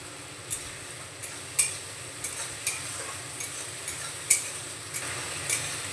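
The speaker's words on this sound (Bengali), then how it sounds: "চেরা কাঁচা লঙ্কা দিয়ে আমি একটু নাড়িয়ে নিয়েছি।" Slit green chillies stirred into softened tomato frying in a pan with salt, a spoon scraping and knocking the pan in irregular strokes over a steady low sizzle, with no talk.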